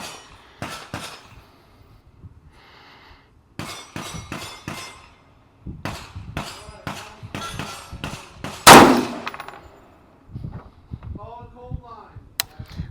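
A gas gun rifle fires one sharp, loud report amid scattered metallic clicks and clanks of handling, with people talking intermittently between the noises.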